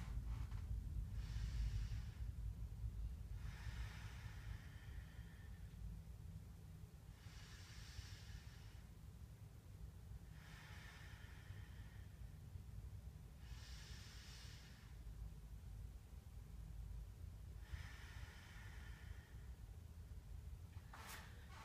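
Slow belly breathing is shown through five or six deep, hissing breaths at an even pace of about one every three to four seconds, close and alone over a low background rumble.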